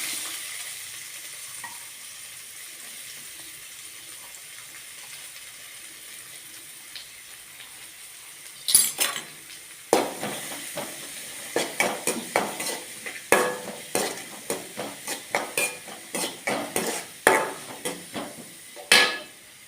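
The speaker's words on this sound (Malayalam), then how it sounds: "കുറച്ച് വെളിച്ചെണ്ണ ഒഴിച്ചിട്ടുണ്ട് അതിലോട്ട് കുറച്ച് ഉള്ളിയിടാം സവാള" Onions tipped into coconut oil in a wok, starting with near silence before a sudden burst, followed by a run of sharp spatula scrapes and clicks over a soft frying hiss.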